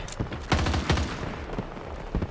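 Rapid bursts of M16A3 rifle fire in Battlefield 2042, several loud close shots and short volleys with a booming low end, no talk.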